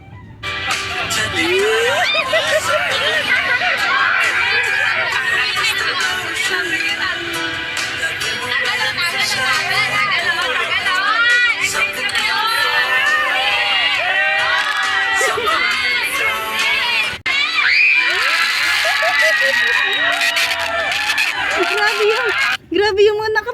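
Dense crowd of fans screams and cheers loudly and continuously around a couple sharing a forehead kiss, shrill excited shrieks rising over a constant roar with no break for the whole stretch.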